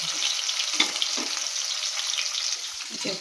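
Hilsa fish frying in oil gives a steady close crackling sizzle with scattered pops and soft stirring scrapes throughout, no voices.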